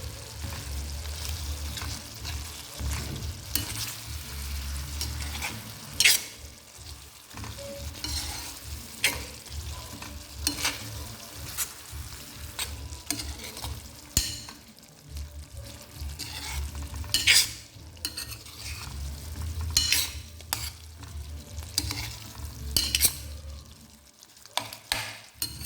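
Chicken curry sizzles steadily in a pan while a spoon stirs it, turmeric and salt just added. Scraping and clinking sounds repeat irregularly over the continuous frying noise, close up, without speech.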